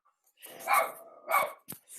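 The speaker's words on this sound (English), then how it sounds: "I got interrupted by a lot of barking." A dog barks twice in quick succession, fairly near and loud, followed by a short sharper yip, with no voices over it.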